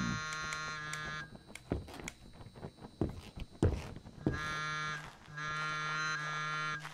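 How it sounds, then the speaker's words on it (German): A cow moos in the video game Greyhill Incident: long harmonic lowing calls open and close the passage, separated by a stretch of scattered thumps and clatter, all fairly close with no talking. "Oh, war das jetzt die Kuh?"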